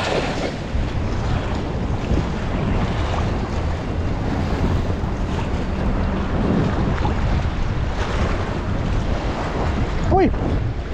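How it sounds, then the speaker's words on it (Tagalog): Strong wind roaring steadily on open sea from a small fishing boat, buffeting the microphone with constant low rumble throughout, with a brief whistle-like tone near the end. "Pasensya na po, mahangin."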